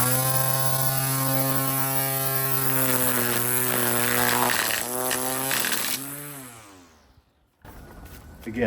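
A battery-powered string trimmer runs in a yard, giving a steady humming whir with strong tonal harmonics. The pitch wavers and winds down around the middle, spins back up briefly, then cuts out before a short burst of other noise.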